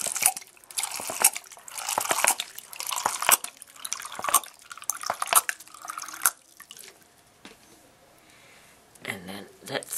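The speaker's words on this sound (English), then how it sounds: "Now fill this up with water." Water is poured and trickles into a plastic bottle planter holding lettuce, with a series of close splashing, dripping bursts that fade into quieter dribbles and a final gurgle.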